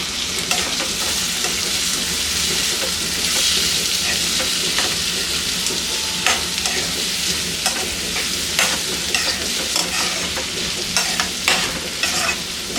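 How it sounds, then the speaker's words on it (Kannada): Chopped tomato and onion fry in oil in a pan with a steady, close sizzle, punctuated by frequent scraping and tapping as the mixture is stirred. "ಟೊಮೆಟೊ ಈರುಳ್ಳಿ ಎರಡು ಕೂಡ ಎಣ್ಣೆನಲ್ಲೇ ಫ್ರೈ ಆಗಬೇಕು."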